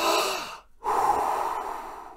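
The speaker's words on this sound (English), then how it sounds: "take a few deep breaths to relax" A long, close breath drawn in, a brief pause, then a slow, steady exhale, all without any talking.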